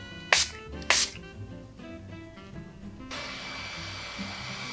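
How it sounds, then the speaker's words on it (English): Two quick, sharp hissing spritzes of makeup setting spray misted onto a face, then a steady broadband hiss continues in the background. "I'm just gonna spray my face with the LA Girl setting spray again"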